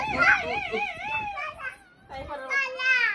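A dog whimpers and yips in high wavering whines at a farmhouse, close and fairly loud, with a voice mixed in.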